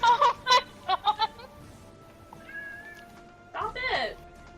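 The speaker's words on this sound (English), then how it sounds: "Sorry about my cat, by the way." A house cat meows several times in quick short bursts close by, then falls quiet before one longer, drawn-out meow near the end over faint room noise.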